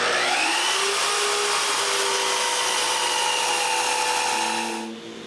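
A power saw cuts a cedar piece at a 45-degree angle, a steady loud whine with tonal ringing running about five seconds before the blade winds down near the end.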